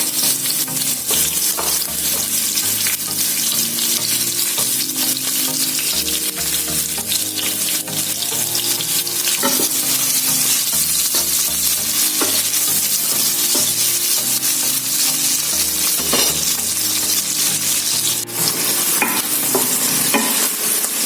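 Spices and seeds being stirred as they roast in a hot pan for an African-spiced beef tripe stew, a steady close sizzle with continuous scraping and stirring throughout, no talking.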